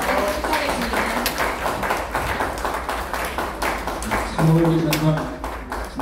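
An audience at an award ceremony gives sustained applause, continuous and fairly loud throughout, while a voice speaks over it briefly near the end.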